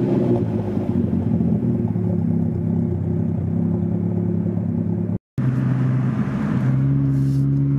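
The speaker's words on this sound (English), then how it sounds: "let me go ahead and show you guys how the car sounds at startup" BMW car engine with an MHD burble tune, idling loud and steady after startup with a deep rumble, briefly cutting out before settling into a lower idle.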